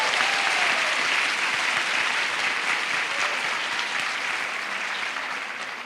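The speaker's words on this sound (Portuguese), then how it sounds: "vou pedir uma salva de palmas ainda mais forte para as mulheres negras desse plenário." A plenary hall fills with sustained, dense applause from a large audience, steady and strong throughout, fading slightly toward the end.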